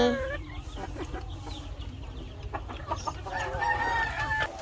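Laying hens cluck and call close by in a coop as their eggs are collected, steady murmuring clucks with a few sharper, higher cries rising near the end.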